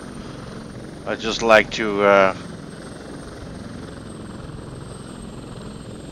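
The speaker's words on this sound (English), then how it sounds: "end this episode in a helicopter, I guess" In the game Prototype 2, a helicopter's engine and rotor drone steadily and continuously in the background while someone speaks briefly over it.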